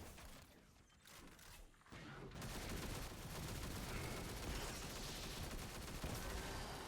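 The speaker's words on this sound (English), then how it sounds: "we're going to do more damage with the machine gun" Sustained automatic machine gun fire in the Destiny video game, a dense continuous rattle of rapid shots that builds after a brief quieter stretch and stays loud to the end, with no talking.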